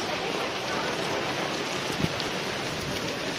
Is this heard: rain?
yes